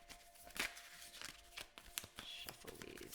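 Tarot cards are being shuffled by hand in a run of soft, riffling flutters and light taps, close up and quiet with no voice over them.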